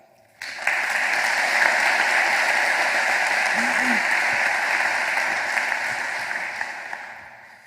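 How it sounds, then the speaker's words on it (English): Graduation ceremony audience breaking into loud, sustained cheering and applause in a hall, starting abruptly and holding steady for several seconds with a brief whoop partway through. "So let's get a big cheer for that."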